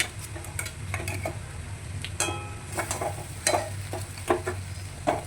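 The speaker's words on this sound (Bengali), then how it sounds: "দিয়ে এটা ভালো করে নাড়তে হবে।" Spatula scraping and stirring a chicken and banana flower cutlet mixture in a pan, a series of short clacks and scrapes over a steady low hum, with no voices.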